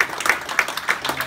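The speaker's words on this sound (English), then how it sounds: "so big round of applause for SOCAS as well." A small audience at a conference session wrap-up claps for a sponsor in a brief burst with a few distinct, rhythmic hand claps standing out, close and fairly loud.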